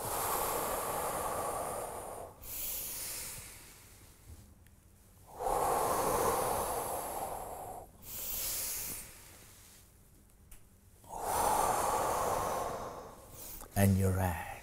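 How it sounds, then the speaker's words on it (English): Slow guided breathing in a calm instructional session, with long drawn exhales and inhales alternating in a steady rhythm of about four cycles, close and breathy, and a brief spoken cue near the end. "Exhale, inhale. Exhale."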